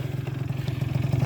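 A Zuma scooter engine runs with a fast, even putter, heard close and moderately loud for a brief moment without any talk.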